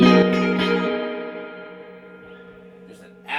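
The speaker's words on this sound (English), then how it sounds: "There's an absolute ton of reverb" A sustained guitar chord rings out through a Fender Twin Reverb amp with reverb at maximum, a heavy, washy tail slowly decaying, followed by a faint new note near the end.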